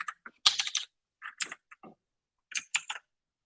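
Bursts of typing on a computer keyboard while coding, with quick clusters of crisp, close keystrokes separated by brief pauses.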